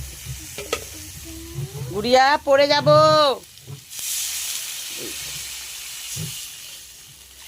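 Water poured onto fried papaya and potato masala in a thin pan sets off a loud, sustained hissing sizzle that gradually eases. Someone speaks just before, and small scraping stirs follow.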